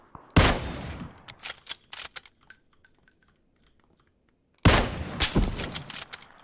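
Rapid bursts of gunfire in a PUBG match on the snowy Vikendi map, loud cracking volleys trading back and forth, a quiet gap, then another dense stretch of shots.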